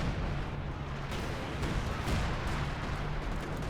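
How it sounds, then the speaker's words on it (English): Company of Heroes 2 battle on the Lanzerath Ambush map, artillery barrages in a 4v4 match as a dense, continuous rumble of distant blasts and crackling impacts, no voices. "Just constant artillery barrages."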